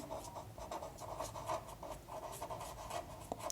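Pen or pencil scratches steadily on paper as numbers are written out in a maths lesson, a close, quiet run of short rubbing strokes with no talk.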